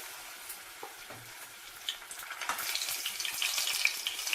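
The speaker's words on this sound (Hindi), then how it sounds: "अभी हम इसमें 1 टुकड़ा भिंडी का डाल के देखेंगे कि तेल हमारा अच्छे से गरम हो गया है या नहीं" A piece of okra dropped into hot oil, giving a soft hiss that builds gradually from quiet into a steady, brighter close sizzle.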